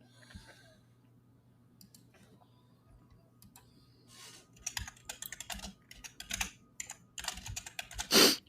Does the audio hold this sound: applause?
no